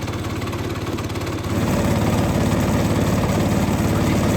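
A small engine on a sawmill setup starts and settles into a steady idle, the throb rising in level partway through and then holding an even, close, rhythmic chug.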